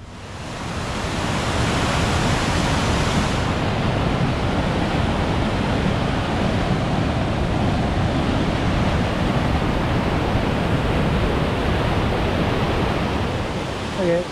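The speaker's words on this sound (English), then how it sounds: "this is La Cascade de las Niñas. So a small cascade." Small cascade at Molinuco in Ecuador, a constant, loud hiss and rush of falling water filling the scene evenly from near by, steady and unbroken throughout.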